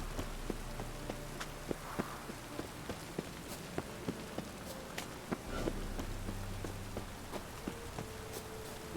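Steady rain falling in The Witcher 3 video game, a soft continuous hiss on surfaces with scattered sharp drop ticks and faint game music tones beneath, no talk.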